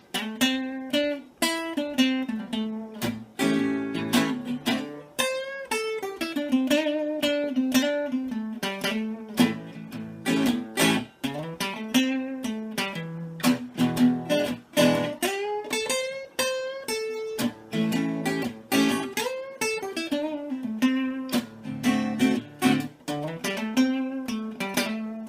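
Guitar notes from a minor pentatonic scale played over a rock-blues progression, a steady stream of clear picked and bent notes with a rhythmic backing underneath, continuous for the whole stretch and with no talking.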